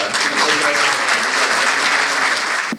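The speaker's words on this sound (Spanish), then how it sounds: "Un aplauso, por favor" Audience at a book launch applauds steadily and loudly, a dense continuous clatter of clapping hands that holds throughout before dropping off at the end.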